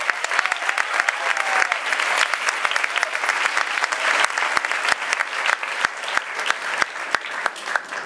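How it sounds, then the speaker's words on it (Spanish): Steady, loud applause from an audience at a tango concert, many hands clapping continuously without pause for the whole stretch. "Fuerte aplauso para Román."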